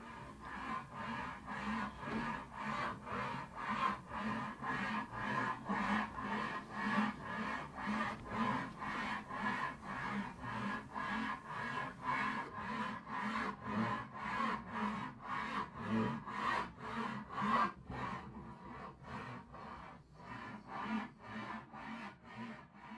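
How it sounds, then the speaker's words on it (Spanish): A hand saw cuts through a wooden board about 75 centimetres long for building a Candombe drum, with steady rhythmic back-and-forth rasping strokes, close and fairly faint, slowing slightly near the end. "corto la tabla con un serrucho"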